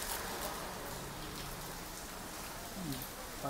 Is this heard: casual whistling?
no